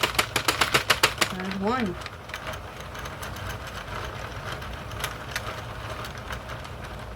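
A Sentro 40-pin knitting machine is cranked, giving a quick run of sharp rhythmic clicks at the start, followed by fainter, sparser mechanical clatter. A person speaks briefly over it.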